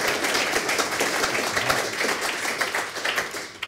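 A small group gives a round of applause during a philosophy discussion, brisk and fairly close, with many overlapping claps that fade out sharply at the end.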